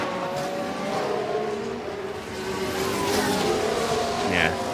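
F1 cars in the F1 Manager 24 game at Imola lap past, including a McLaren, with high whining engine tones shifting in pitch as they pass, steady and moderately loud, with commentary talking over them.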